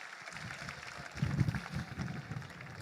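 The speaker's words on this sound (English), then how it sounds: "Give him a round of applause" Applause from an audience at a town hall meeting at Kensington Oval, a steady wash of clapping that swells midway and carries on to the end, with no talking over it.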